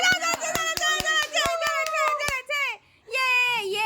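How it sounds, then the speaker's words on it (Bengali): Friends clap at a birthday surprise, a quick, steady run of sharp hand claps under excited, high-pitched voices, stopping briefly before the voices carry on. "হাততালি দাও বলে"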